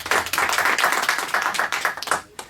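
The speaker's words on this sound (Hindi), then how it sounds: "तो एक बार जोरदार ताली हो जाए" Audience clapping on a quiz show for a junior contestant, a dense continuous burst of applause lasting a couple of seconds before tapering off, loud and close.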